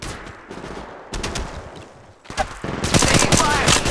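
Rapid gunfire from Apex Legends rattles in several bursts, automatic weapons chattering close and loud, with a brief pause before a denser volley erupts toward the end.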